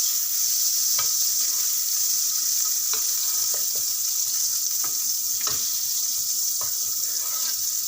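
Fifty grams of butter melts in a hot pan with a continuous soft sizzle and crackle. A few faint scrapes or clicks break through at intervals, and no one speaks.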